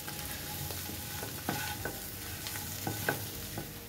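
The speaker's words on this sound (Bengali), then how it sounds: "সবটা একসাথে দিয়ে দিচ্ছি, দিয়ে আবারও ভালো করে মিশিয়ে নিচ্ছি।" Potatoes tossed with salt, red chili flakes and ground black pepper for butter garlic potatoes, stirred in a pan with a faint steady sizzle and a few soft scraping knocks of the spoon, close and fairly quiet.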